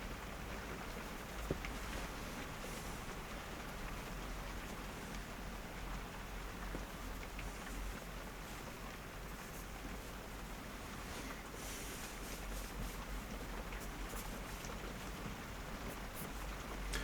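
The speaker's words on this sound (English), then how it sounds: "it's raining if you can hear it" Steady rain falls outside during a quiet indoor portrait-drawing session in Yorkshire's rainy season, an even continuous hiss that holds at a moderate level throughout, with faint scattered drips and no voices.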